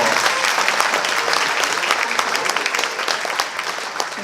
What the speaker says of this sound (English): Give the entire sound crew a huge round of applause.